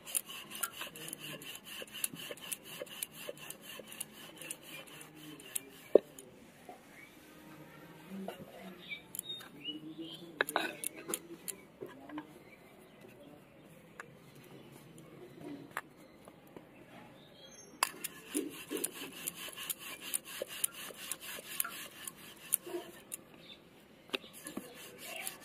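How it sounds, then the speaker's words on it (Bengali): Kohlrabi paratha dough being rolled out by hand, giving soft, repeated rubbing and rasping strokes up close that come in uneven bursts with quieter gaps between them. "এবার আমি পরোটাগুলো বেলে নেবো।"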